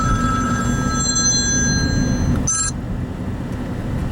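A phone's electronic ring trills steadily for a couple of seconds, then cuts off with a brief click over a loud, continuous engine-like rumble.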